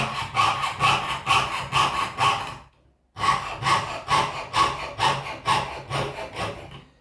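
Steady back-and-forth strokes of a hand saw cutting through wood in a handicraft class, about a dozen rhythmic rasping passes with a brief pause midway, close and loud with no talking.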